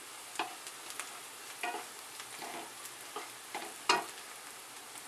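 Onion frying in a pan with a pinch of asafoetida and half a spoon of turmeric, giving a steady soft sizzle broken by a few sharp clicks of stirring, close and fairly quiet with no talk.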